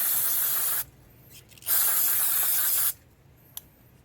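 Two long, close hissing blasts of aerosol carburetor cleaner onto a Generac GP150000E generator carburetor, separated by a brief pause, with a tiny spurt near the end and no talking.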